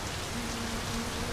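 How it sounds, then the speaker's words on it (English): Steady rain pours in the driving game My Summer Car, a dense even hiss with no pauses. "Here come the rain again"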